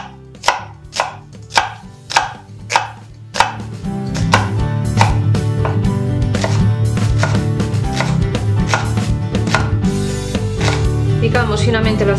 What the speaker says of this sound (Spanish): Picamos finamente la cebolla.